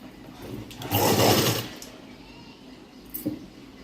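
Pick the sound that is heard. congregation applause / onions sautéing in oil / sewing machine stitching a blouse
sewing machine stitching a blouse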